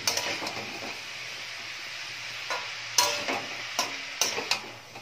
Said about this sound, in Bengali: এবার হলুদটা দেওয়ার পর এটা একটু মিশিয়ে নিচ্ছি।